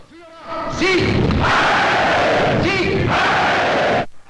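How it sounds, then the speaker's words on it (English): A large crowd in WWII-era propaganda footage bursts into loud roaring applause and cheering for its leaders. Two long surges of massed noise carry shouted voices at their onset, then the sound cuts off abruptly. "Applauding on cue the words of the leaders."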